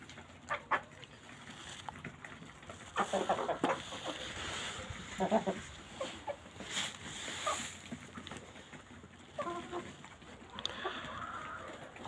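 Chickens and a rooster clucking and squabbling over bread while being fed in a winter coop, irregular bursts of clucks and scuffling at close range with quiet stretches between.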